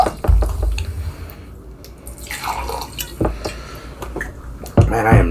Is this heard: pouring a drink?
yes